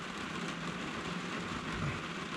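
Heavy rain pours steadily outdoors during work on a Mini Cooper's fuel system, a loud, continuous hiss with no breaks and no voices.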